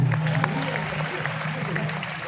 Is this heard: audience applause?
yes